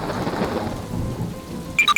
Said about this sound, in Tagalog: Bumuhos ang ulan at malakas ang kulog at kidlat.